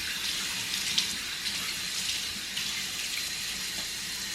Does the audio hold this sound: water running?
yes